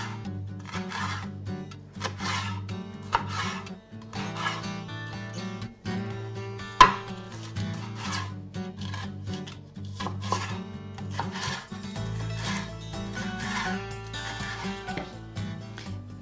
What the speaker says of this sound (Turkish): İki adet yeşil biberimi kesiyorum.